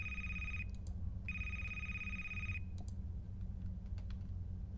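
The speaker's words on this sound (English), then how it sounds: "And we should probably check out this phone over here." A telephone rings in a quiet library: two long, bright ring bursts separated by a short pause, followed by scattered light clicks against a low background hum.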